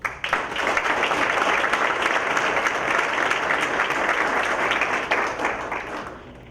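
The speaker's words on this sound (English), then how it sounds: "please join me in giving a big round of applause to the Southgate Rotary for sponsoring this event" Audience applause for the Southgate Rotary at a State of the City address in Riverview, Michigan, a steady, dense wash of many hands clapping that swells right away, holds evenly for about six seconds, then tapers off.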